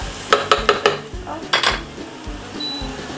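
Sopas soup cooking in a pot, a quick series of metallic ladle clanks against the pot followed by softer stirring scrapes and a faint sizzle, close-up and without talk.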